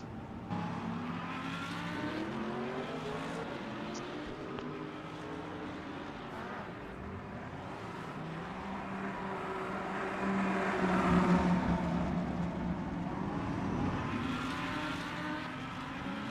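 Race cars rolling into a busy Le Mans pit lane in a video game, several engines droning and overlapping with shifting pitch, one growing louder and nearer toward the end.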